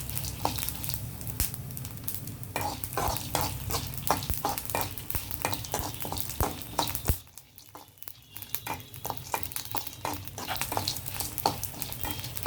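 Chutney ingredients for brinjal chutney frying and being stirred in a pan, continuous close sizzle with frequent scraping clicks and a brief quieter dip midway.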